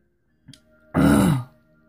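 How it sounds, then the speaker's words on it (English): One short, harsh cough bursts out close by, after a small catch of breath, then quiet. "Got a cough just sitting there and I'm trying to make it go away"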